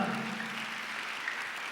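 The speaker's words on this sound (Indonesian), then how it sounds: "Tepuk tangannya yang meriah" A church congregation applauds in a steady, dense wash of clapping that holds for the whole stretch, moderately distant and fairly soft, with no talking over it.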